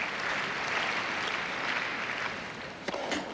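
Crowd applauding at a 1994 Masters semifinal tennis match between Agassi and Sampras, a dense steady wash of clapping that thins slightly toward the end, with a couple of sharper sounds near the close.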